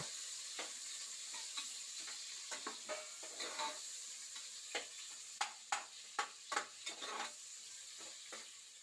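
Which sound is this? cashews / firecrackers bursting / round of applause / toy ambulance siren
cashews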